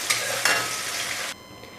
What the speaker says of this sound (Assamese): প্ৰথমতে মই পনীৰখিনি অকণমান ফ্ৰাই কৰি ল'ম।